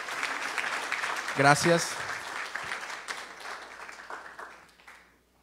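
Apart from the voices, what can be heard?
congregation applauding first-time visitors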